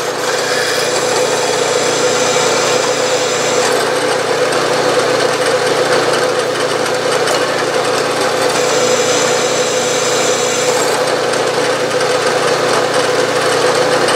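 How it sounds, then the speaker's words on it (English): A number 15 drill bit cuts a pilot hole in metal on a machine in a workshop. A loud, steady mechanical whir with a constant drone and faint high squeal runs unbroken with no talk. "Here's that 15 drill again"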